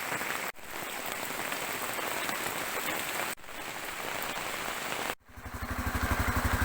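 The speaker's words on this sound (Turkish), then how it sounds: "Şiddetli bir şekilde yağıyor hala." Heavy rain pours steadily and loudly on a forest road, a dense hiss with brief breaks, then a low rhythmic rumble joins near the end.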